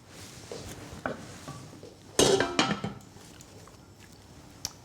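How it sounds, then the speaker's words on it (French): A tagine simmering with tomato compote is stirred in its pot, then the lid is set back on, producing a few close clinks and one sharp metallic clatter amid faint kitchen background. "Je vais bien mélanger, je vais couvrir à nouveau."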